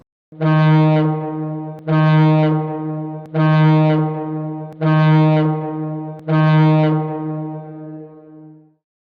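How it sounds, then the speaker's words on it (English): Five short, loud, deep horn blasts, each about a second long and evenly spaced, with nothing else audible: a vessel's danger signal. "the danger signal is going to be 5 short consecutive blasts of the horn lasting 1"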